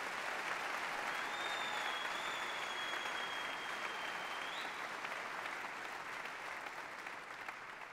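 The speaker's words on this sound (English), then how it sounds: "Please applaud." Sustained audience applause at the inauguration of Kevin De León as President Pro Tempore of the California State Senate, a dense steady wash of many hands clapping throughout, with a faint whistle-like tone drifting above it.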